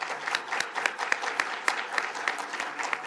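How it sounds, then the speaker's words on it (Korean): A small audience claps to welcome the first winner of a journalism award at a university newspaper's 90th anniversary ceremony, distinct individual claps forming moderately loud, uneven applause for a few seconds with no talking over it. "박수로 맞아주시기 바랍니다."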